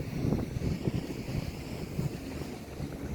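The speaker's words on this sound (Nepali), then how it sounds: "एकदम हावा लाग्यो।" Strong wind buffets the microphone outdoors, a continuous loud low rumble with gusty swells throughout and no talking.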